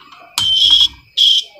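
A DIY earthquake alarm buzzer wired straight to a battery sounds in two loud, shrill electronic blasts, the first longer and the second shorter, separated by a brief gap.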